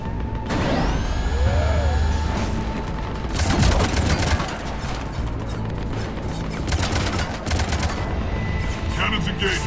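Gunfire from a sci-fi shooter game, with repeated bursts of shots and booms mixed into loud mechanical game effects and music, dense and continuous across the scene.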